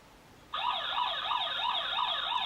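An AVTECH AVN80X DVR alarm output sets off a siren indoors with a sudden start, then a loud, steady warbling wail that rises and falls in a quick, even cycle.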